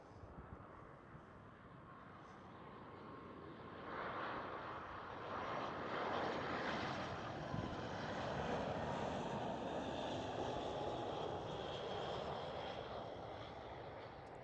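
A British Airways airliner passes at Amsterdam Schiphol, a distant engine roar that swells from about four seconds and holds steady, with wind rumble and no voices.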